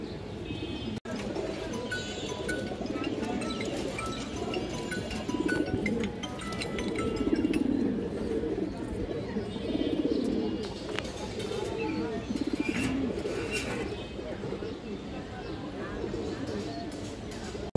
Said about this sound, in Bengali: পুরোনো লাইনের কবুতর।